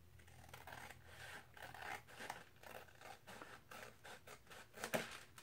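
Scissors snip at paper being trimmed for a collaged window envelope, producing quiet, close, irregular cutting and rustling strokes with no talking.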